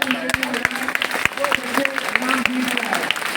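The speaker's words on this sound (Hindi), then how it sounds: "मैं चाहूँगा एक जोरदार तालियां हम सब" Audience clapping for prize-winning children at a school prize distribution for zonal competition winners, a steady dense patter of many hands over roughly three seconds with a faint hum underneath.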